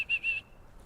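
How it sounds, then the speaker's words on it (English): A dog-training whistle gives a recall command to an eight-week-old retriever puppy. Two short, fairly quiet shrill blasts sound close together, alone. "give the whistle command for here"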